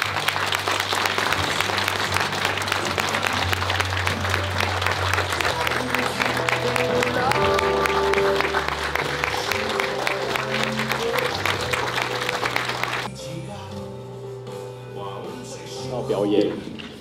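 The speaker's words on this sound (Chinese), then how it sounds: "各位贵宾，让我们用最热烈的掌声欢迎蔡总统莅临会场。" An audience of guests applauds the arrival of Taiwan's President Tsai Ing-wen, sustained dense clapping over music for about thirteen seconds before it drops away to quieter sound with a brief swell near the end.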